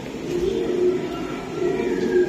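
Racing pigeons cooing close by at a pigeon farm, a low throaty warble that rolls on continuously with a couple of swells in loudness.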